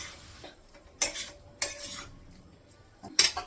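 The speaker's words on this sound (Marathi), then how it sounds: "आता त्यानंतर घालायची परतून ठेवलेली फ्लॉवर" Sautéed cauliflower florets tipped into a cooking pot and stirred with a utensil, giving a few sharp scraping clinks against the metal with quiet pauses between them, close and moderately loud.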